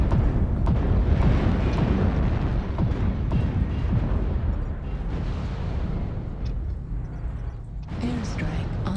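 Airstrike explosions in a mech combat video game come as a dense run of heavy booms and rumbling blasts, loud and close, layered over one another across the whole stretch.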